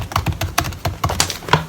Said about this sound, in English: he just started hitting the keyboard really hard trying to type